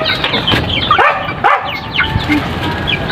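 A large native chicken clucks and squawks repeatedly as it is let loose on the ground, with bursts of wing flapping and scuffling close by and other birds calling in the background.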